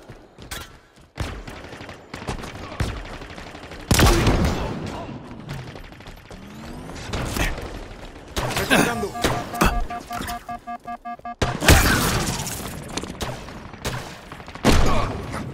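Bursts of automatic gunfire and heavy weapon blasts in the shooter Halo Infinite, loud rapid volleys alternating with sharp impacts, booms and brief quieter gaps throughout.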